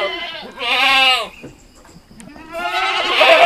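Etawa goats on a breeding farm bleat loudly in two long, wavering calls, one early and one at the end, with a quieter stretch of farmyard noise between them.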